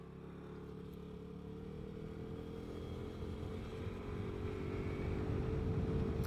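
Vespa GTS 300 scooter engine droning steadily while riding, a low continuous hum that slowly grows louder with wind noise and no talking.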